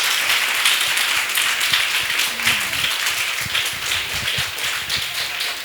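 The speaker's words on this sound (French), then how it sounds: "Sous vos applaudissements, s'il vous plaît, installez-vous." Steady audience applause, dense continuous clapping from many hands that holds at an even level throughout.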